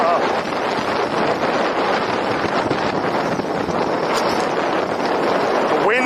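Wind roaring across the microphone while riding a long-range ebike on a 100-mile trip, a loud constant rushing buffet that fills the whole clip with no pauses.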